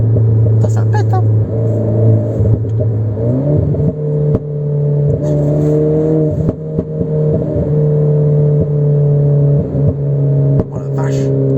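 Renault Clio 4 RS engine and exhaust, a loud, close revving drone that rises in pitch and holds, with sharp crackling pops, while people talk over it.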